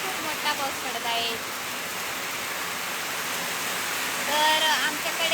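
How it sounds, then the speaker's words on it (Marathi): Heavy summer rain pours down in a dense, steady broadband roar, close and continuous, with faint voices talking beneath it at the start and near the end. "आमच्याकडे खूप मोठा पाऊस पडत आहे।"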